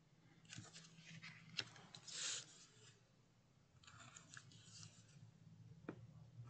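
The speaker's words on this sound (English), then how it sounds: "we're just going to cut out our tabs" Scissors snip and rasp through cardboard tabs cut at a slight angle from an old Christmas box, a few close, quiet cuts with soft scraping between them and no talking.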